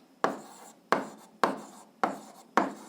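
Pen or chalk strokes while writing out an algebra exercise by hand: five sharp scratchy strokes at a steady rhythm of about one every half second, close and moderately loud, with no talking.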